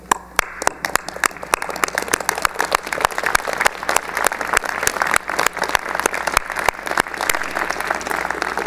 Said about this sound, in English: would you please join me in standing and applauding your family and friends for their